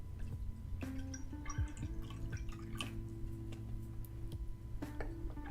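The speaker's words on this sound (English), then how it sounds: "Right, I'm gonna pour myself out a bit more." Tea poured into a cup gives a run of faint, drip-like trickles and small ringing tones, quiet and close, with no talking.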